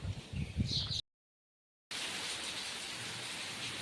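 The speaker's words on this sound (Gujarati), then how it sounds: "તો ફાઇનલ આપણો વરસાદ અટાણ વરસે છે" Heavy rain pours down at a Gir cow shelter in a village, a dense steady hiss broken by a brief gap of silence, loud and close with no talking.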